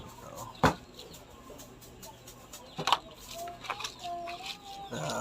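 Scattered chicken clucks and soft calls among faint background chatter and occasional sharp knocks, fairly quiet and intermittent.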